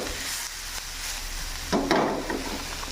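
Food sizzles and fries in a pan while caramelizing before spaghetti sauce is added, a steady close crackle that swells briefly with a few louder bursts of stirring.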